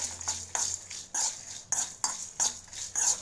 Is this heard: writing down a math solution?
no